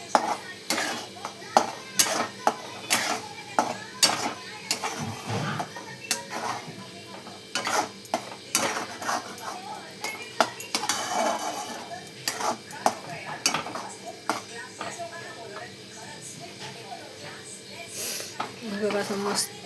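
Egg bhurji stirred and tossed in a pan: repeated spatula scrapes and metallic clinks in an irregular rhythm over a low sizzle, with a voice talking throughout.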